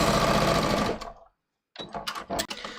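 A sewing machine runs a close, loud, steady whir while stitching strippy fabric off at a 45-degree angle, then stops abruptly; after a short silence come scattered handling noises and rustles of the fabric.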